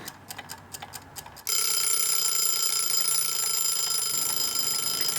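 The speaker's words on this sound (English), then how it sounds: "the timer just went off" Kitchen timer going off while fish chills in the freezer: a few rapid ticking beeps, then a loud continuous shrill electronic alarm ringing without pause.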